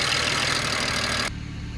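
BMW X6 engine idling after a fuel injector repair, a steady low rumble with a broadband hiss that abruptly drops away partway through, leaving the even idle hum alone.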